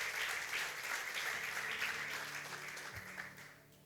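A church congregation applauds together, a dense sustained wash of clapping that starts strong and slowly fades out toward the end, with a faint voice briefly audible.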